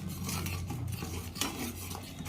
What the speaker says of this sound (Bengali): এরপর একটু ভালো করে একটু মশলাটা কষিয়ে নিচ্ছি।